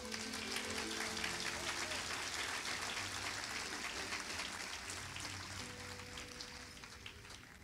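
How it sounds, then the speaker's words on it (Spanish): A church congregation gives a sustained round of applause at a Spanish-language service, dense and steady throughout with a slight fade toward the end, heard alone without talk. "Denles aplauso a Jesús."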